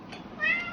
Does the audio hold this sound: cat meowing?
yes